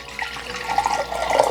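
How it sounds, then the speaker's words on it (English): Water poured from a height into a container at home, a steady close splashing stream that builds slightly toward the end, with no talk over it. "And you pour it up kind of high so you can kind of hear the noise."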